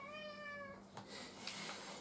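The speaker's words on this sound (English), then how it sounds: "their special power is making annoying meowing noises when we're trying to record our first ever gaming video" A house cat gives one clear drawn-out meow, fairly faint and close, followed by quiet rustling and small knocks.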